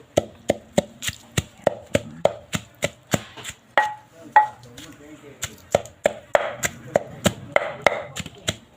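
Rapid, steady pounding thuds from a pestle in a mortar pounding jaew bong, a chili paste with fermented fish, repeated in a regular rhythm close by, with a short pause midway before the pounding resumes.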